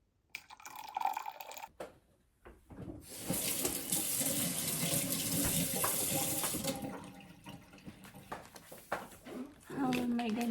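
Hot water pours into a glass to mix an orange-flavoured Glycoprep bowel-prep drink at home, a steady hissing stream lasting several seconds, with people talking before and after.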